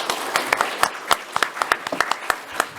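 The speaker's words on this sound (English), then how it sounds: "How about another huge round of applause for our panel?" An audience applauds a panel: mixed claps from many hands, uneven and fairly close, with sharper individual claps popping out over a softer bed of clapping for a few seconds.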